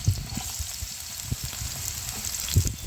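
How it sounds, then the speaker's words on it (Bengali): Potatoes fry in soybean oil in a frying pan on a gas stove, a close, steady sizzle with occasional louder crackles. "ফ্রাই প্যানে আলুটা ভেজে নেব"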